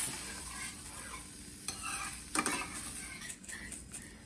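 Sauce with oat milk bubbling gently in a pan on the stove, a soft steady simmering hiss with faint clinks and occasional louder pops, quiet and close.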